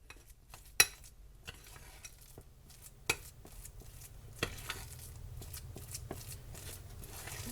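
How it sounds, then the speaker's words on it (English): Potatoes being tossed with seasoning for crispy potato tacos, a soft continuous rustling shuffle with occasional sharp clicks of utensil on bowl, close and quiet throughout. "Get that seasoning mixed in really well."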